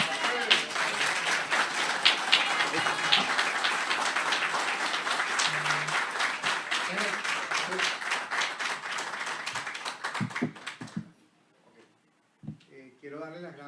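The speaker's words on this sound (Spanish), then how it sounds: "Magistrados valientes, un aplauso." Audience applause for magistrates at a press event, a sustained round of clapping that holds steady, then thins and stops near the end, followed by brief talking.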